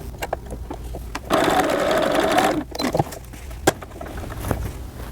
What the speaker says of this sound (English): sew very close to the raw edge to hem my sleeve